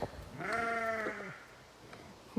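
A single drawn-out sheep bleat on a farm, wavering and fairly close, standing alone against quiet outdoor background.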